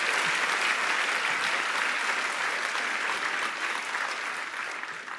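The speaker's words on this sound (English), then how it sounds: "So you can clap now." Sustained audience applause fills a gala hall, a dense, steady wash of clapping that stays loud throughout and eases only slightly near the end.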